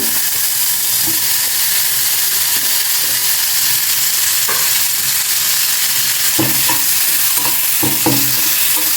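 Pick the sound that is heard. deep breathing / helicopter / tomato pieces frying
tomato pieces frying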